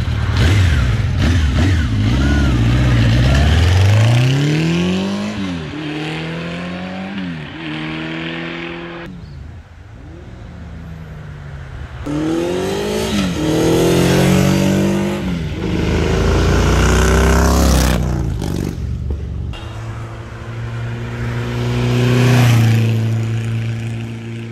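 A 1984 Honda Nighthawk S 700 motorcycle engine revs up hard several times, loud and close, with rising harmonic sweeps climbing to high rpm and dropping back between pulls.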